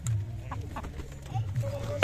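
Chickens cluck in a rural yard during a Bhogali Bihu outing, a few short calls heard faintly over low rumbling background noise, with a brief louder burst at the end.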